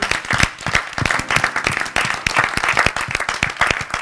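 A church congregation applauding, dense sustained clapping from many hands filling the room at close range, loud and steady throughout.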